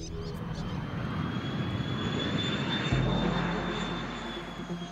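An airplane lands on a runway at Kansai airport, its engine roar a broad, steady rumble with a thin high whine, swelling louder midway then easing off, heard from nearby.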